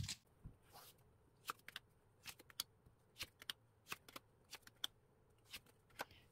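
Tarot cards are shuffled and drawn by hand at a table, producing a quiet series of close, crisp card snaps and riffles at an irregular rhythm, with no talking.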